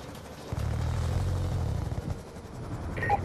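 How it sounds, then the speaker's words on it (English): A stealth chopper in the video game Black Ops 2 flies over as a steady, loud rotor and engine rumble that swells in and holds for a few seconds, with a faint higher tone near the end. "Friendly stealth chopper inbound."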